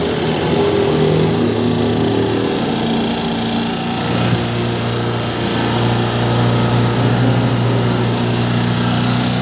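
A Honda TMX 125 motorcycle engine with an open carburetor runs continuously after a push-button start, giving a loud steady buzzing idle close by.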